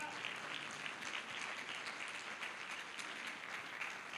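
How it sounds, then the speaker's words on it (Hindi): A church congregation claps to thank the Lord during a sermon, a steady, even wash of many hands heard at a distance and fairly faint, with no talk over it. "कोई ताली बजा के प्रभु को धन्यवाद है।"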